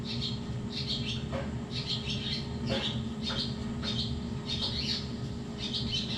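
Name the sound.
birds calling loudly at night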